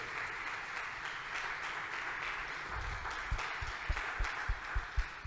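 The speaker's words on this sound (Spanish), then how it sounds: "Dele un aplauso al Señor por eso." A church congregation breaks into steady applause that swells and continues, with a few louder, sharper claps standing out near the end.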